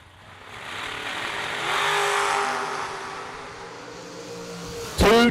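Pontiac and Camaro cars drag racing on a strip, engine roar swelling and fading at a distance, then a sharp loud burst close by at the end.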